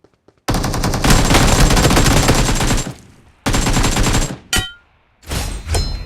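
Loud automatic gunfire in a battle royale video game: long rapid bursts of machine-gun fire, close and dominant, broken by short pauses, then a few more bursts and a brief metallic clatter.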